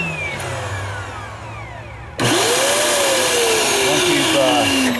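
The central vacuum sweeper in a 2023 Montana 381TB RV switches on partway through with a sudden, loud, steady roar. Before that, quieter background hum and tonal sweeps are heard.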